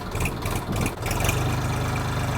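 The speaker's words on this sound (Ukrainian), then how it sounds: "запустив двигун, додам трошки обертів" A heavy diesel engine of a LOVOL 244 tractor idles steadily close by, a continuous low rumble with a constant throbbing beat and no voices.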